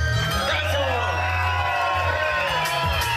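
Live rap concert crowd in Dresden cheering and whooping loudly over a thumping bass-heavy backing beat, steady and dense throughout with scattered shouts rising near the end.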